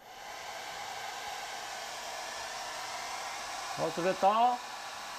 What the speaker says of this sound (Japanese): このドライヤーの風を下から風船に当てます